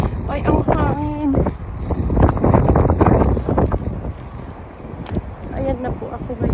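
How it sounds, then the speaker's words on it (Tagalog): Strong wind buffets the microphone on a cold, snowy day outdoors, gusting loudly throughout, with a voice speaking briefly over the roar. "Ay, ang hangin."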